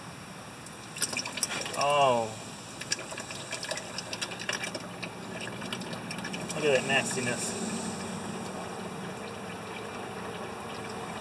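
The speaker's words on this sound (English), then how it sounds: "Might as well drain the oil, I guess, or let it be draining." Oil and water trickle and drip steadily from a tractor engine close by, a thin continuous flow, while someone speaks briefly over it.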